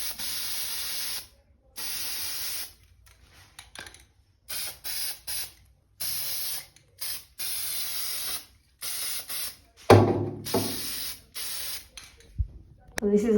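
Aerosol spray coating hissing onto a scratched bathtub in a series of close, loud bursts of a second or two each, separated by silences, followed by a few handling knocks and clatters.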